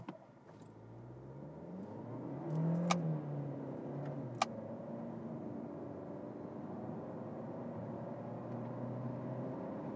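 A 2017 Volkswagen Golf Highline 1.4 TSI with DSG gearbox accelerates from standstill on a closed road, engine note rising smoothly from low to a sustained drone with a shift around mid-run, heard from inside the car.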